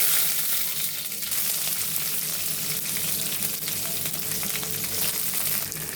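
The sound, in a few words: tempering of green chillies, garlic, onion frying in oil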